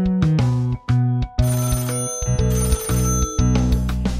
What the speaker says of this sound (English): Mum calls by phone.